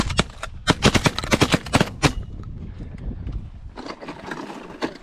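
Shotguns fire repeatedly during a pigeon hunt, a rapid cluster of loud, sharp reports in the first two seconds, then fewer, softer shots and rustling after a pause.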